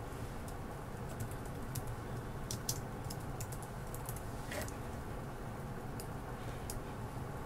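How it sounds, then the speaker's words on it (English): Steady, soft keyboard typing runs throughout as a name is entered in Photoshop, with quick irregular keystrokes at a quiet, close level and no talking. "Now I'll type my name."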